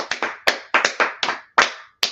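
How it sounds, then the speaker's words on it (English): A group clapping hands together in a gathering, sharp uneven bursts of claps in quick clusters, close and fairly loud, with no talk over them. "Let's clap it up for everybody, man."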